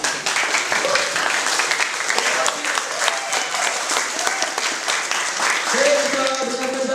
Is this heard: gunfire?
no